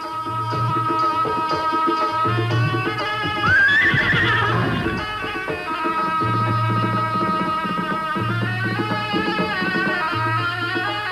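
A dancing horse at a Pakistani culture festival neighs with a rising whinny midway, over a steady rhythmic drum-and-music accompaniment that plays throughout at a constant loudness.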